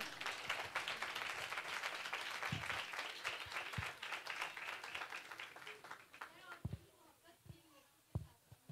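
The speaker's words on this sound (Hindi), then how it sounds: "तो औरतों के लिए ताली बजाएं जोरदार।" A church congregation at a Sunday service claps loudly and fast for the women, a dense burst of applause that thins into scattered single claps with talk in between.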